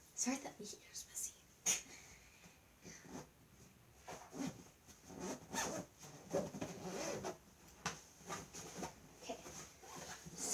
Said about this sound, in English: and then you zipper it back up